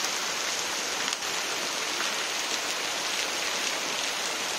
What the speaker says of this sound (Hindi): जो लोग बोलते थे ना कि बारिश नहीं होती, ये देखो आज बारिश।